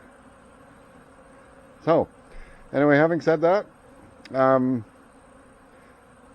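Honey bees buzz in a steady, soft drone during a massive cleansing flight outside the hive, while someone talks briefly over the swarm noise.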